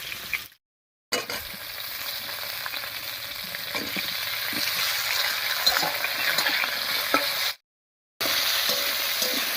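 Bitter gourd and drumstick pieces fry loudly in a pan over a tomato and green chili base for shukto dal, a dense close sizzle with stirring scrapes, briefly cut by two gaps of silence.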